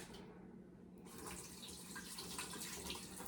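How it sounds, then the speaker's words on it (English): Briny liquid from an opened can of black olives pours out in a quiet, steady trickling stream with faint splashing, continuous throughout. "You're going to want to drain the juice out."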